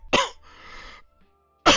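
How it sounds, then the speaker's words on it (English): A person coughs close into a microphone during a card shop livestream: a sharp raspy cough, a rough throat-clearing rasp, a short pause, then another loud cough. "I'm coughing in the microphone"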